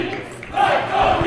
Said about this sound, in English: Raucous crowd